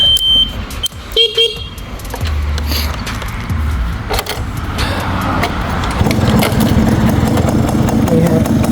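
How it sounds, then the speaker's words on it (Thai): A white Yamaha Mate 100 motorcycle engine runs close by, settling after a couple of seconds into a steady, low idling rumble with light mechanical clatter that continues to the end. "เดี๋ยวเรามาฟังเสียงเครื่องยนต์กันนะฮะ"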